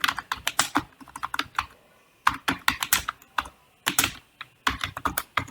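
Code is typed on a computer keyboard in quick bursts of close, crisp key clicks, broken by short pauses, with no one talking.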